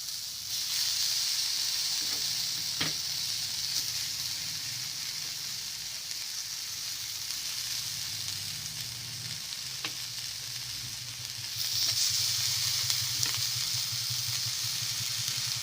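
Fish frying in hot oil in a pan gives a continuous close hiss and crackle that swells louder toward the end, with occasional soft knocks of handling and no talk.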